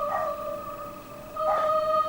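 Dogs fighting a large animal on a road let out a sustained, high, tonal howling whine that drops briefly and then swells again, loud and fairly close.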